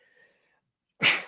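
A single sudden sneeze bursts out loud and close after a stretch of quiet, preceded by faint tonal background sound.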